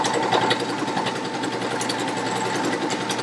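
A Pfaff Quilt Ambition 630 sewing machine, started with its start-stop button, stitches out fabric with a steady, fast mechanical whir and even rapid needle chatter, heard close up.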